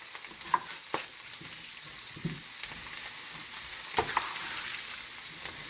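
Roasted root vegetables tossed in a pan, a soft continuous sizzle with scattered clinks and scrapes of utensils against the pan, close and moderately quiet.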